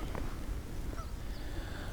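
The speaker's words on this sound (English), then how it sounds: "I just heard a goose in the distance." A goose honks a few times in the distance during a New England winter, faint nasal calls over a soft ambient background.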